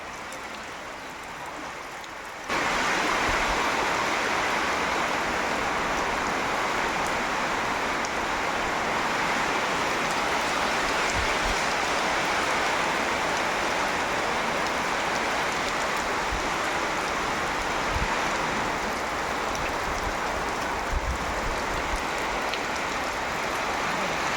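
Steady rain hisses down loudly after a quiet start, a constant dense patter with occasional heavier drops, no voices.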